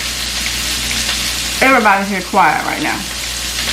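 Turkey burgers fry in a pan with a steady, close sizzle throughout, while a voice speaks briefly over the crackle.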